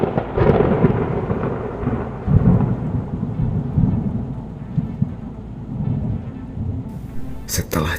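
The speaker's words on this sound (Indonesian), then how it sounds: "suara percikan petir terdengar di mana-mana" Rolling thunder crackles and rumbles loudly over falling rain, with a long low roar that swells and fades before a sharper crack near the end.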